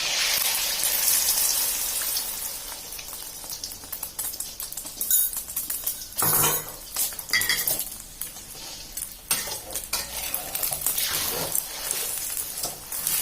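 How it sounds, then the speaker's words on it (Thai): Beaten egg for a Thai omelette poured into hot oil in a pan, giving a loud, bright sizzle and crackle that rises and falls, with clinks of a utensil against the pan, close and continuous. "เมื่อน้ำมันร้อนนะคะ ให้ใส่ตัว ไข่ที่เราเจียวไว้เลยค่ะ"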